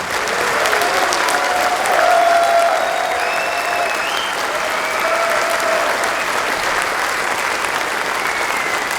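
A large audience claps at the Eurofurence 29 closing ceremony, dense and sustained applause with a few whoops and whistles rising above it.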